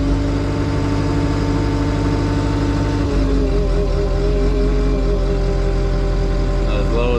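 Heavy diesel engine of a high-end agricultural bulldozer idling loudly and steadily, its note dropping lower about three seconds in as the RPM is brought down.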